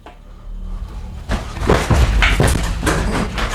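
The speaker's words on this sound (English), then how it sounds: "That bang at the door?" A loud bang and rattling knocks come from a cabin door deep in the woods, starting after a quiet moment and continuing as a cluster of close thuds and clatters.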